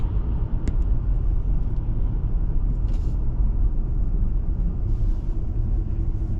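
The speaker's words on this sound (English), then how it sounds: "Traffic, traffic, traffic." Road traffic on Georgia Highway 92 North heard from inside a moving car, a loud steady low rumble of tires and engine with faint passing hisses, no voices.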